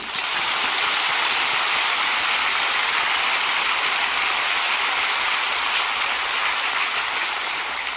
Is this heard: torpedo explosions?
no